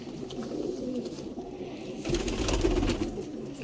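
Pigeons coo at a breeding setup, a low burbling chorus of paired birds running steadily throughout, swelling louder in the second half.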